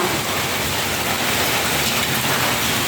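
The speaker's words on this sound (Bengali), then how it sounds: "দেখছো শিলা বৃষ্টি হচ্ছে আজকে আমাদের এখানে" Hail and rain pour down steadily in a heavy storm, a dense continuous hiss and patter close by with no pauses, loud and unbroken throughout.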